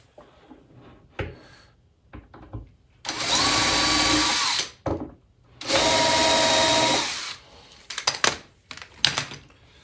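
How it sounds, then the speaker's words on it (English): A power drill drives screws into the top of a wooden blanket chest in two loud, sustained bursts of a couple of seconds each, separated and followed by clicks and handling knocks. "hold it up so I can get the rest of these screws in"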